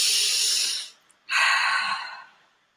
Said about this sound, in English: his breathing technique is when you're breathing in